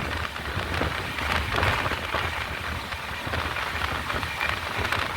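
Light rain during an Island Express journey in Kerala, near Edava, patters steadily on surfaces in a dense, even hiss with low rumble underneath, close and continuous.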